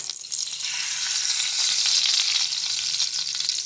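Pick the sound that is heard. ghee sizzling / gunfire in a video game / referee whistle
ghee sizzling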